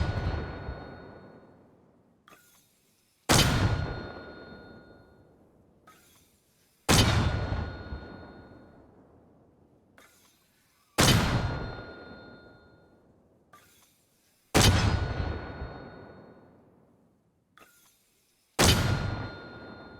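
Mortar rounds fire in Arma Reforger, six sharp, loud launches spaced about every three to four seconds, each ringing with a metallic tone and decaying into a long rumbling tail, no talking.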